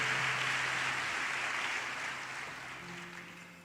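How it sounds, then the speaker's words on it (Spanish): A church congregation applauding, a steady wash of many hands clapping at a moderate distance that slowly fades toward the end. "Si puede darle palmas al Señor, désela mientras toma su lugar"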